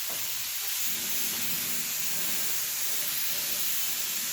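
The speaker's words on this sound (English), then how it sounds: "We just keep blowing it with the air." Compressed air blowing steadily over wet lacquer on painted furniture, a continuous bright hiss with no breaks, close and fairly loud, no talking.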